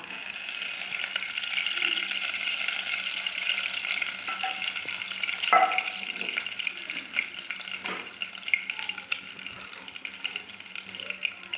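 Oil poured into a pot and frying for chicken biryani, a continuous bright sizzle with occasional clinks and scrapes of a utensil against the pot.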